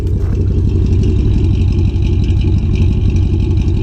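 A Ram pickup truck, recently repaired after an engine fire and fitted with an aftermarket exhaust, idles steadily with a deep low rumble and even pulsing, loud and close, with no talk over it.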